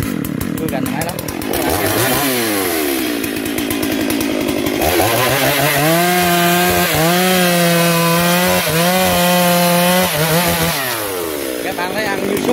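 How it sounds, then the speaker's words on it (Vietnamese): A Brazilian-made STIHL 382 chainsaw cuts through wooden logs, roaring loudly and revving up and down as it bites, with someone talking over the engine. "Hôm nay ông sẽ đem cái máy cưa này ra, ông sẽ cắt những cái đoạn cây này cho các bạn xem tham khảo"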